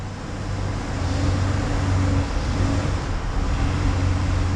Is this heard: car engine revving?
yes